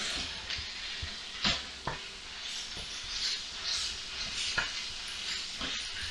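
Ground pork and garlic sizzle in a pan for lumpiang gulay filling, a steady frying hiss broken by a few sharp scrapes and clacks of a utensil stirring the meat.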